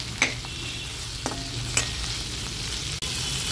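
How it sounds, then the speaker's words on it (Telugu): Onion pieces fry in a spoonful of hot oil in a pan, giving a steady close hiss with a few sharp utensil taps. "ఆయిల్ కాగిన తర్వాత ఉల్లిపాయ ముక్కలు వేసి పచ్చివాసన పోయే వరకు వేయించుకోవాలండి"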